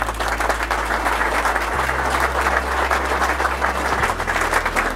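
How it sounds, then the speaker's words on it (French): An audience at a corporate event applauds steadily, a dense, even wash of many hands clapping that holds throughout with a low hum underneath. "Vous les applaudissez."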